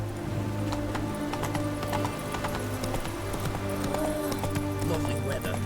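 Steady horse hooves clip-clopping throughout while a horse is ridden, with a brief whinny-like tone and speech-like sounds mixed into a busy, continuous background.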